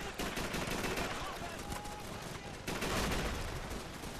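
Rapid, dense gunfire from the Call of Duty 3 video game fills the scene, sustained bursts with a louder surge midway, mixed with battle noise and occasional voices.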